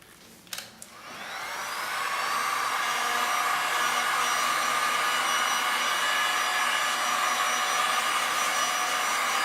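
A heat gun warming a Dutch-pour resin artwork clicks on and settles into a loud, steady rushing blow of hot air that continues unbroken close to the mic.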